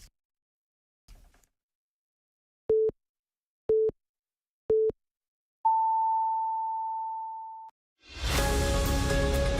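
Telephone line tones during a call that fails to connect on a radio broadcast: three short evenly spaced beeps, then a longer steady higher tone, followed by a burst of broadband noise, all loud and without talk.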